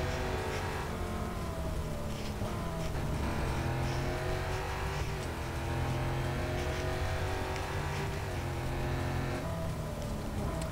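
Porsche 911 race cars in the Real Racing 3 mobile game make a dense, steady engine roar that rises and falls as they accelerate, with several motors layered together and no voices.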